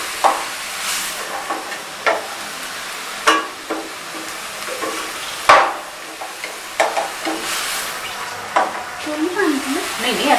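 Onions fry in a pan over a high flame with salt and chili, giving a steady loud sizzle. Scrapes and clacks from stirring break through at irregular intervals.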